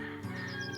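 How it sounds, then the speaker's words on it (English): Chickens clucking nearby on Scotland's North Coast 500 route, a steady low cackling chorus with a brief louder cluck partway through, no talking. "Apart from the chickens"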